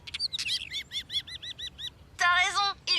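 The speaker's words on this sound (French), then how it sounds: "ce sont des oiseaux. Oui, des oiseaux chanteurs." Cartoon songbirds sing in a bright, close duet: a rapid series of evenly spaced high chirps, then a louder warbling trill after a brief pause, with a faint background bed beneath.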